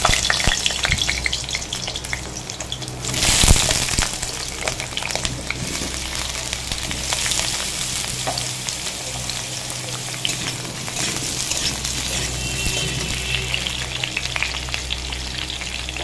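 Potatoes frying in hot oil in a kadai with salt and turmeric, a continuous dense sizzle with occasional stirring scrapes, loud and close throughout.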